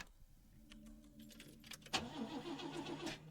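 Video game sound of a car failing to start in Lorelei and the Laser Eyes: keys jangle, then an engine cranks with a rough, repeated whirring that sputters on without catching, fairly quiet and close.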